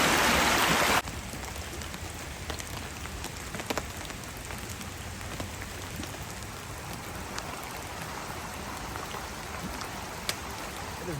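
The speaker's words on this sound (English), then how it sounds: "It's been raining on this tent for 6 hours." Steady rain pours onto a budget Walmart backpacking tent, a dense, constant patter and hiss with a few sharper drop taps, heard up close from inside and unbroken by voices.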